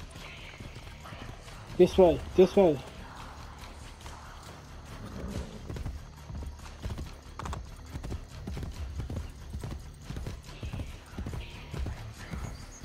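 A horse in the Assassin's Creed Brotherhood video game clops its hooves steadily in a repeated rhythm throughout, with a short whinny near the start and a game character calling out over it.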